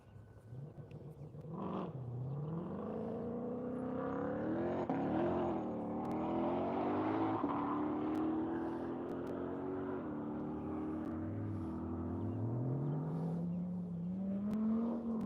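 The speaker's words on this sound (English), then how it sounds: "Chad leaving the line right now in his AMG." Race cars leaving the line at Grattan during One Lap of America, including an AMG: an engine revs up through rising gear sweeps, drops, then climbs again, loud and sustained, with no talk.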